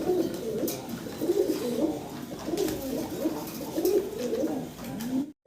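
Pigeons coo steadily in repeated low, throaty phrases at a fancy pigeon seller's stall, the sound close and continuous with a hint of outdoor bustle before it cuts off abruptly at the end.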